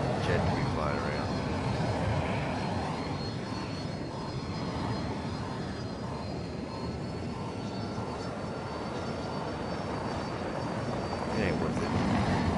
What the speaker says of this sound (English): It's like this map is way too small for a damn jet to be flying around